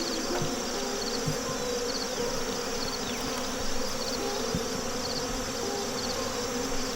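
Honey bees buzz steadily around a weakened, damaged hive, a dense continuous drone with occasional individual insects passing close by.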